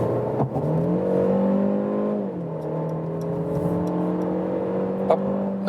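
A Mercedes C200 mild-hybrid estate accelerates steadily from 60 to 100 km/h, its engine note a sustained, rising drone with one audible gear change partway through, heard from inside the car without talk.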